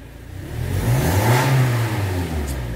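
A Toyota Innova engine fitted with an IForce Ultimate performance add-on revs up and back down in one smooth, loud, close swell that drops away at the end.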